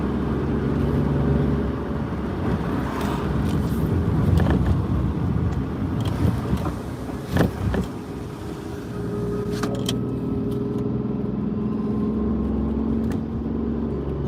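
A car drives along with a steady, close engine hum and road rumble, a few brief bumps and knocks partway through, and no voices.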